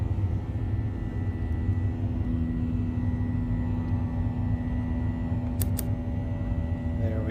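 Boeing 737 jet engines in the X-Plane flight simulator drone steadily during a climb past ten thousand feet, a continuous low roar with a faint tonal whine layered over it, plus a couple of brief clicks near the end.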